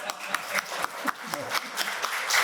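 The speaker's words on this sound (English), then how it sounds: "did I hear applause starting for World Lit Today?" Lecture audience at a university lit fest breaking into applause, a steady patter of many hands clapping at moderate distance with a few sharper individual claps standing out.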